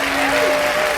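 Applause from a studio audience at a Georgian singing-duel show, a dense steady wash of clapping across the whole second with a faint sustained tone beneath it.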